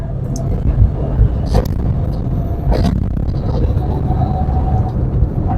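A car accelerating on the road while the driver shifts up through third and fourth gear, a steady low engine and road rumble running throughout with a few brief louder swells, no talking.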